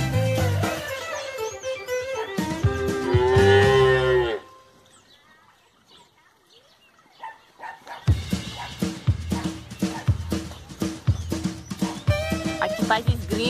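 Cattle lowing on a farm, with long loud moos up close that break off into near silence, then resume alongside clattering activity and voices speaking Portuguese.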